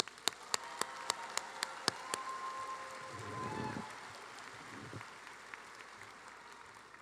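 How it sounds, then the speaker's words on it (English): A round of applause at a university commencement ceremony, opening with a string of sharp, evenly spaced claps that blend into a soft, distant wash of clapping and then trail off. "Let's give them one more round of applause."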